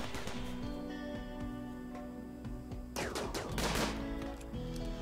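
Gunfire from a RimWorld colony battle rattles in quick bursts under a steady game soundscape, growing denser and louder around the middle and then settling back into scattered shots.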